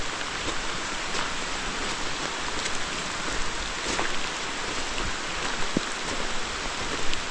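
Torrential rain falls steadily on abandoned coal mine land during tent camping, a dense, continuous hiss with scattered sharper drops, unbroken and fairly loud throughout.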